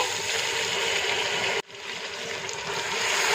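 Water is poured into beef karahi cooking in oil, giving a steady, loud hiss and sizzle that breaks off briefly partway through and then resumes.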